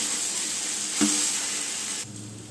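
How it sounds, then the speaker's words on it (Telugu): Brinjal sizzles in a pan with chili powder and salt for a Telugu chutney, a steady close frying hiss with one spoon stroke partway through before it quiets slightly. "ఇలా చక్కగా కలుపుతూ ఫ్రై చేసుకుందాం"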